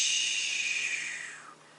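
A steady high-pitched hiss of CO2 draining out the barrel of an Umarex AirJavelin arrow air rifle after the last shot, gradually weakening and dropping in pitch before cutting off, close and alone.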